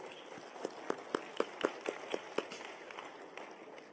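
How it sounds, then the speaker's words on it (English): Scattered hand claps from a business-forum audience greeting the moderator: about eight sharp, evenly spaced claps over a low room hum, fairly quiet and thin rather than a full roaring ovation, trailing off into background noise. "A round of applause."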